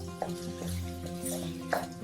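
Minced keema with okra and green chilies stirred in a pan, a soft continuous sizzle broken by a few sharp spoon scrapes and knocks against the metal.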